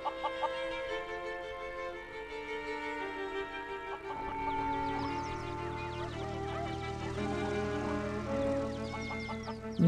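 A rooster crows and clucks in a long, layered series of calls, close and prominent, with a busy tonal backdrop and a sharp knock at the very end.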